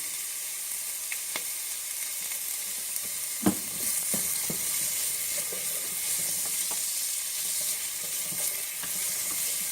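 Salted onions fry in a pan with a continuous bright sizzle and crackle. Occasional spoon or pan knocks and scraping sounds come through as they are stirred, and nobody speaks.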